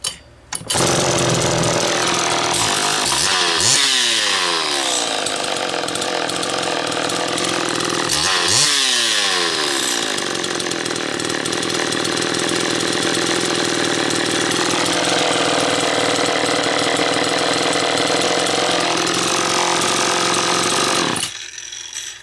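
A Homelite XL-1 chainsaw pulled over with no throttle, the starter cord ripping twice before the engine catches and runs loud and close, a raw two-stroke drone that shifts pitch midway and cuts off sharply at the end.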